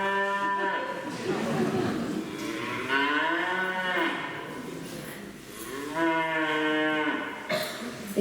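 Several cows moo in long, drawn-out calls, one after another across the stretch, loud and close with little pause between them.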